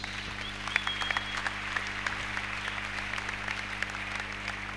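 A church congregation applauding, a light continuous patter of clapping at moderate distance over a steady low electrical hum, with no clear cheering heard.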